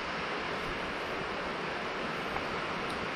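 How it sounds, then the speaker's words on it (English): Heavy rain pours down outside a shop, a steady, dense hiss of falling water that holds at an even level throughout with no pauses. "it's pouring down raining today."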